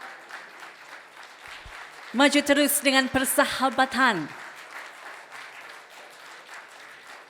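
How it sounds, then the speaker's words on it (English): An audience at an Indonesian diplomatic reception in Sydney applauds a youth orchestra, a broad wash of clapping throughout, while a loud voice rises over it in the middle and then falls away. "Please big round of applause for"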